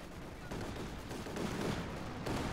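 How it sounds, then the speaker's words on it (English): Aircraft strafing-run gunfire in a tank video game, a dense rumbling rattle of rapid distant fire lasting a couple of seconds with a heavier thump partway through, no talking. "Strafing run."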